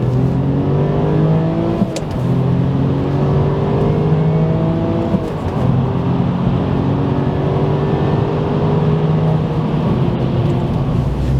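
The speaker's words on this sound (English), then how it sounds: "Driving the 2-litre turbo Legacy." A Subaru Legacy 2.0-litre turbo wagon accelerates hard from a standstill, its engine note rising steadily and sweeping up through the gears in a continuous loud drone heard from inside the car, with no talk.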